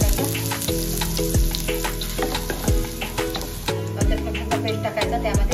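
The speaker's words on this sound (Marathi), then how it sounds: "आणि यामध्ये कांदा टाकायचा," Onion dropped into hot oil in a kadhai while making paneer lababdar, a loud close sizzle with crackles and repeated stirring scrapes, steady throughout with background music.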